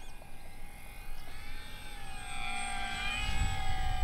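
RC warbird model airplane flying overhead, its motor giving a steady whining drone with pitch shifts as it passes, growing slightly louder toward the end, with no voices.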